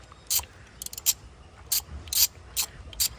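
Small ratchet working timing cover bolts on a 1.4-liter turbo Chevy Sonic or Cruze engine, a series of crisp, close clicking bursts in quick short runs with brief pauses between.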